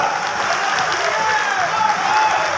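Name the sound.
crowd applause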